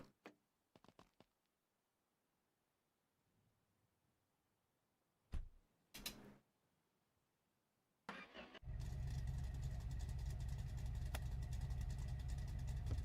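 V8 car engine in a video game: scattered clicks and brief bursts, then the engine cranks and catches, settling into a loud, steady rumbling idle that runs to the end.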